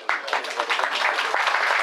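Applause in a festival hall, dense continuous clapping from a crowd, fairly loud and brief, with a voice faintly underneath.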